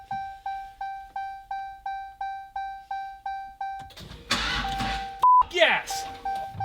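Dodge Demon rebuilt after a fire, with a regular series of chime beeps before the engine turns over once with a rough burst, followed by people speaking excitedly.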